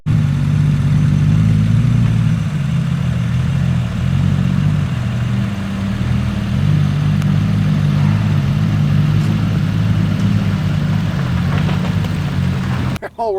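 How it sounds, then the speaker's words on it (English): A 2020 Ram Rebel truck's 3-liter V6 diesel with an 8-speed rumbles steadily and loudly nearby, a low droning engine note with slight shifts in pitch while driving off-road in the Rockies. "This is a Ram Rebel with a 3-liter V6 diesel on an 8-speed"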